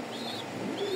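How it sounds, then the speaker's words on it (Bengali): Pigeons in a loft give soft, low coos and small tonal calls close by against a quiet background, with two brief call phrases. "বেশ কিছু কবুতর আছে আমার লফটের ভিতরে"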